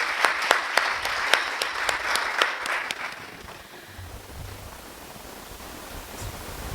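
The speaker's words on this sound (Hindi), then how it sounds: "आप बहुत ज़ोरदार तालियां बजा दें इन लोगों के लिए" An audience at a Hindi poetry gathering applauds the assembled poets, with steady, crisp clapping for about three seconds before it fades into quiet room noise and a low hum.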